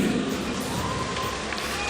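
Arena crowd noise as a boxer makes his ring entrance, a dense, steady roar of applause and cheering filling the hall at close, even volume.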